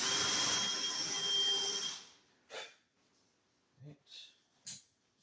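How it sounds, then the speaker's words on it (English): A power drill with a countersink bit boring down into the wooden framework of a 4x8 model railroad layout, a loud steady whirring for about two seconds that cuts off, followed by a few faint knocks. "So we're going to carefully first drill down in."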